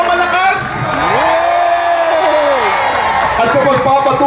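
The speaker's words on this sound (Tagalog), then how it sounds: "Muli bigyan natin ng malakas na palakpak" Crowd at a prayer rally for Senator Bato cheering, whooping and applauding loudly and continuously, with a sustained shouted cheer rising in the middle.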